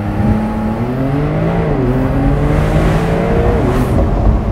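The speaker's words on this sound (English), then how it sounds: "let's go ahead and do another launch here. Sport Plus, foot on the brake, full throttle," A Porsche 911 992 Cabriolet launches at full throttle in Sport Plus mode, with a loud, close engine rising steadily in pitch through gear changes and heard alone.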